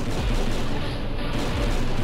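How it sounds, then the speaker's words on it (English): Video game explosions roar continuously, a dense, loud barrage of booms and blasts with no pauses. "It's just thousands of eye-blinding explosions."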